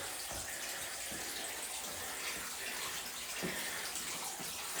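Spring water gushes and splashes steadily nearby at a rock spring house in Governor Dodge State Park, a continuous flowing rush with a few soft knocks.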